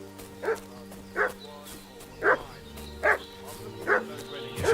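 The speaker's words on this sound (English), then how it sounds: "What's that dog making such a fuss about?" A dog in a video game set in medieval Bohemia barks five times at a steady pace over low ambient hum, a little distant.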